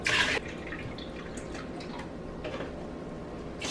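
Chicken broth trickles and drips into a rice cooker, a faint, quiet liquid patter with a few light splashes over a soft background.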